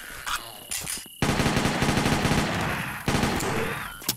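Rapid automatic gunfire in the video game Zompiercer, a short burst followed by a long sustained rattle of shots that breaks off briefly and then resumes, loud and close.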